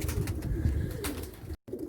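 Domestic pigeon of the Arab breed cooing, a low throaty murmur running steadily and close by for a couple of seconds with a brief cut near the end; no one speaks.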